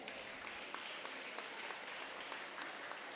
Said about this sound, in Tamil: கைத்தட்டலாம், எல்லாருமே கைத்தட்டலாம்